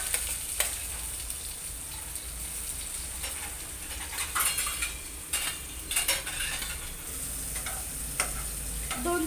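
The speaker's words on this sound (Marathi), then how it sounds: "आता आपण ह्याच्यामध्ये सगळं कांदा टाकून घ्यायचा आणि तो गुलाबी रंगामध्ये परतून घ्यायचा" Onions sautéing in a pan for tomato chutney, a continuous sizzle with intermittent scraping and clinking of a stirring utensil, close and moderately loud with no talk.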